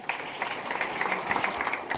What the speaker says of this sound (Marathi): तुमच्यासाठी जरा एकदा जोरदार टाळ्या